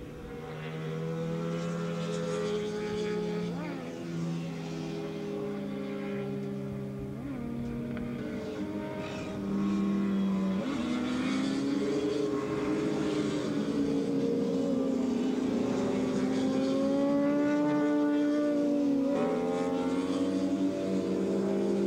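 Honda motorcycles in a 1986 novice 451cc–600cc class race at Willow Springs International Raceway, their engines whining steadily and sweeping up in pitch as they accelerate, loud and continuous with several bikes overlapping.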